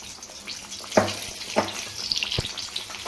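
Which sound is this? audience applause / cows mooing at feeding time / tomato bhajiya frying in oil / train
tomato bhajiya frying in oil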